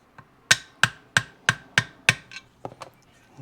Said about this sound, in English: Plastic hammer.